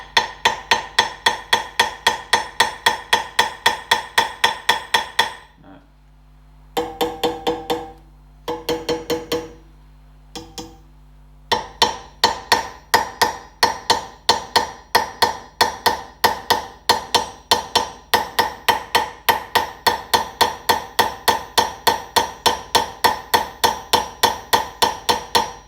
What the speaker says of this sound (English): what you can do with a light hammer,